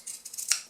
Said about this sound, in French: Maintenant je prends mes ciseaux cranteurs et je vais découper le contour de mon étoile.